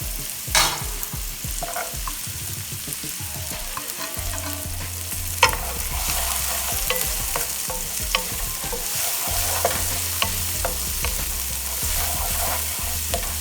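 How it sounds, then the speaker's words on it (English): Onion and peppers saute in a pan for Cajun wild rice, a steady close sizzle punctuated by repeated stirring scrapes and clicks of the utensil, with no talk. "Saute the onion for some time. Don't let it brown, just get the flavor. Now I'm going to add my peppers to it."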